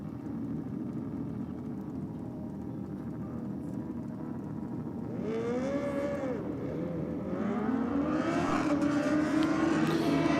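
Two drag racing motorcycles launching at a drag strip during a race event, a droning engine bed building into rising, revving whines that climb steadily in pitch and loudness toward the end.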